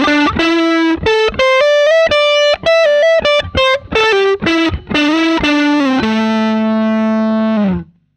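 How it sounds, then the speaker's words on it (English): Electric guitar through a fixed-bias valve tube amp with negative feedback switched off and already at full volume, giving gritty, distorted notes: a quick run of separate plucked notes, then a final sustained note ringing for several seconds before cutting off. "it just gets slightly more gritty and distorted because it's already at the full volume"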